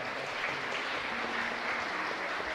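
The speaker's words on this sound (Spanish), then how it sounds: "un fuerte aplauso para ustedes" Steady clapping from a congregation at a live Catholic Mass in a chapel, a brief continuous burst of moderate applause heard alone.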